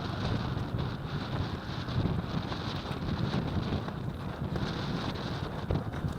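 A half-lowered sail flaps on an Achilles 24 sailboat in a storm, a continuous loud roar of wind and fabric buffeting with no pauses.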